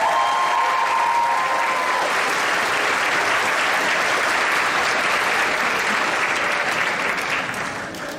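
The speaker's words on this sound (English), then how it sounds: "Big round of applause for Ms. Andres." Loud, steady applause from a high school graduation audience in a large hall, many hands clapping continuously and evenly, tapering slightly near the end.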